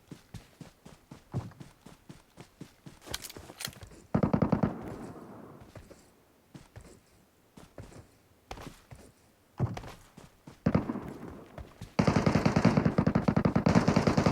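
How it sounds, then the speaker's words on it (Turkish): An M24 rifle and other guns fire in the video game Metro Royale: sharp shots and rapid bursts with pauses between, mixed with footsteps and thuds, some loud and near, with loud sustained fire toward the end. "Aha Önümde M24 sıkıyor birisi."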